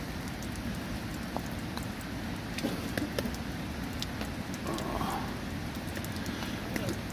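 Heavy winter rain falls steadily on a wild camp in Hainworth Wood, a dense, constant hiss with scattered sharper drips and taps on nearby surfaces, heard close and without any talking.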